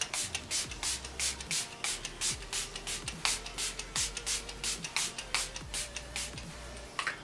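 A bottle of Milani Make It Last setting spray hisses in many short, rapid bursts, about a dozen quick pumps in a steady rhythm, close up.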